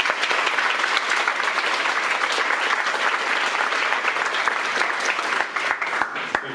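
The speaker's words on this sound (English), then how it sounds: "give him a round of warm applause" An audience at a programming conference in Chattanooga gives a speaker a warm round of applause, a loud, dense, sustained burst of clapping that begins to thin toward the end.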